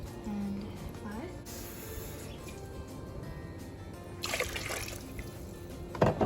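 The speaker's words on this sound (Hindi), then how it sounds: "So we just added 6 cups of water." Water poured from a glass into a pot of chicken soup, heard as two short splashing bursts over a quiet kitchen background.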